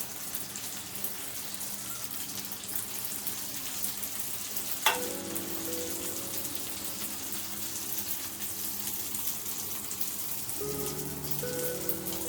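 Crispy chicken rice paper rolls fry in hot oil with a loud, continuous sizzle and crackle that holds steady throughout, with no talk.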